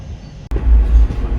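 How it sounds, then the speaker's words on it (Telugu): A passenger train on the Lingampalli–Palakollu route pulling out of Bhimavaram Junction, heard from on board as a steady low rumble that cuts out briefly, then swells into a louder continuous roll. "ఇప్పుడు మన ట్రైన్ అయితే భీమవరం జంక్షన్ నుంచి కూడా స్టార్ట్ అయిపోయింది"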